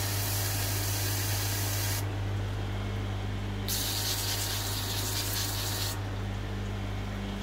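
A handheld pumped garden hose sprays water outdoors in a garden, giving a steady, close broadband hiss that surges and eases as the spray is turned on and off, with a low mechanical hum underneath.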